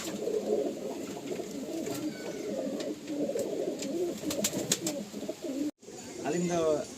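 Pakistani pigeons coo steadily in a crowded loft, soft overlapping throaty murmurs close by, with a few higher calls and some talking over them.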